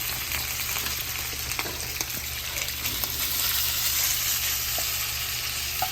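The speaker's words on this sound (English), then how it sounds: "now we're gonna throw in our Foster Farms grilled strips, heat these up with the peppers." Foster Farms grilled chicken strips and peppers frying in a hot pan make a steady, close sizzle and crackle. Faint stirring clicks sit under it and no one talks.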